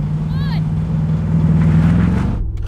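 An AMG G63 and a BMW M850i accelerate hard from the line in a drag race, giving a loud, steady low engine roar with a brief squeal near the start before it cuts off abruptly.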